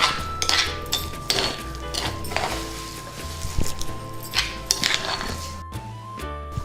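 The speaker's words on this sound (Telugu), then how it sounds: "దీన్ని ఒక బౌల్లోకి తీసేసుకుందాం" Freshly ground amla (Indian gooseberry) chutney is scooped from a container into a bowl, with repeated metallic clinks, scrapes and knocks of a spoon against the dishes.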